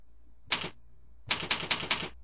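Keyboard keys clatter as a password is entered while setting up a webmail account: one short burst, a pause, then a quick run of four or five distinct keystrokes, close and clear.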